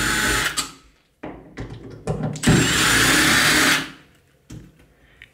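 A power drill backs out the back plate screws on a door handle in short whirring bursts, followed by one longer sustained run, with small clicks and handling knocks in between.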